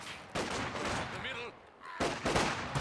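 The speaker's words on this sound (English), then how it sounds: "Good suppression there from the machine gun" Machine gun fire in the World War II strategy game Company of Heroes comes in short, loud bursts with a pause in between, mixed with other battle sounds and sitting under a voice talking.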